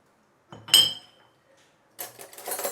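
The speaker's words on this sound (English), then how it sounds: "I am also going to put in the dried shrimp" Dried shrimp tumble into a pan while Malaysian grilled fish is prepared at home, a brief close clatter and clink of food and utensil against the pan, then a second rustling scrape after a pause.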